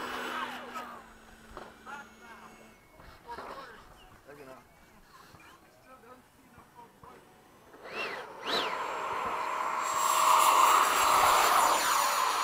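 Freewing 90mm F-22 and Eflite 80mm F-4 RC jets fly in formation at an airfield, their ducted-fan whine faint at first under people chatting, then swelling into a loud, steady rushing roar as they pass.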